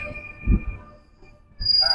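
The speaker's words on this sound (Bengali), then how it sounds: "একটা ট্রেন আসলো।" A train pulls into a station platform, its low rumble swelling and fading, then a brief rise of rolling wheels with a thin high screech near the end.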